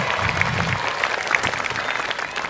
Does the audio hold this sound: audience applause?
yes